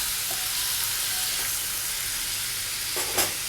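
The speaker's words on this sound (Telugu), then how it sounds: "టమాటో యాడ్ చేసిన తర్వాత టమాటో అంతా కూడా బాగా కలిసేటట్టు మిక్స్" Chopped tomatoes sizzling steadily in a hot pan for a mango-tomato pachadi, with a near, continuous frying hiss and brief scraping stirs near the end, no talk.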